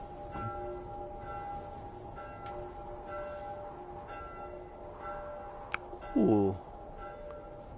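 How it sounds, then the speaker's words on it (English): A few distant church bell strikes ring out at spaced intervals over a low ambient rumble in the video game The Last of Us Part 1, with a brief exclamation and a short burst of noise near the end. "Church bell should mask the sound of your gunfire."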